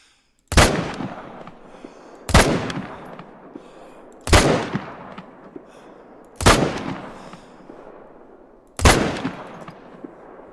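Five loud, sharp 30-06 rifle shots from the Call of the Wild hunting game, fired alone at steady intervals of about two seconds, each crack followed by a short rolling echo tail.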